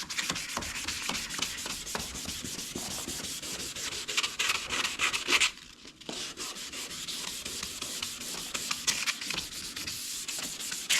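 Headlight lens being wet sanded by hand with 400 grit sandpaper, a close, steady, rapid back-and-forth rasping scrub that pauses briefly midway and then resumes.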